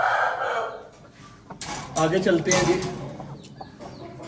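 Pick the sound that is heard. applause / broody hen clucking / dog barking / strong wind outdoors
broody hen clucking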